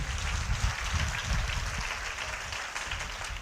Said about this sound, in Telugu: ఇప్పుడు గట్టిగా చప్పట్లు కొట్టి దేవుని కనపరచాలి.